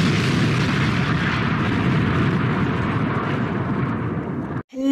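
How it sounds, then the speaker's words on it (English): A toy missile launched in a backyard roars with a loud, sustained rushing blast that holds steady for several seconds, then cuts off abruptly before a short burst of noise. "We're getting ready to launch a missile in 3, 2, 1."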